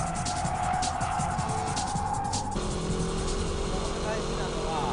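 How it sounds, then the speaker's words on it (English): A car performing a braking drift, its engine note dropping sharply midway as it slows and slides, with steady road and wind noise throughout. "Let's check out the braking drift."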